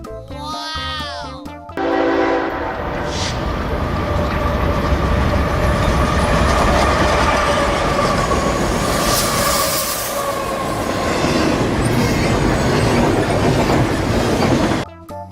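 A toy container train runs along its track with a steady rolling rumble and clickety-clack, continuous and fairly loud from start to end, with a brief higher tone at the opening.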